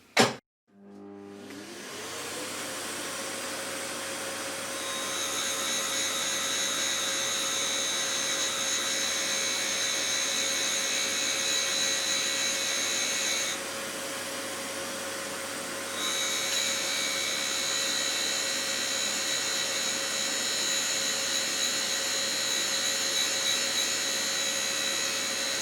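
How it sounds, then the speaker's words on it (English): A bench grinding wheel grinds an indexable parting blade with a continuous high whine and hum that holds steady for about twenty-five seconds, dips briefly partway through and then resumes, with no voices. "we go in contact with the grinding wheel, we tip it back and we tip it over like this, and then we just grind until we're at the tip"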